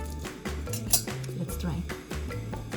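Chopped garlic, parsley and Szechuan pepper mixed together, with repeated clinking of a utensil against a dish in a quick, uneven rhythm, close and fairly clear.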